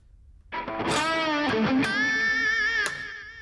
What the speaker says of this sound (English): I just leave the reverb.